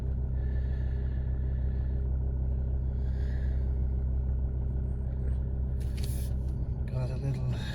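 Steady low rumble of road traffic in Dublin heard from inside a moving car, with engine and road noise constant throughout and a few brief brighter hiss bursts near the end.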